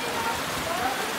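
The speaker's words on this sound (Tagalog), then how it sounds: "sobrang laki talaga ng alon at lakas ng ulan" Steady hiss of heavy rain from Typhoon Paeng pouring down, dense and continuous with no gaps.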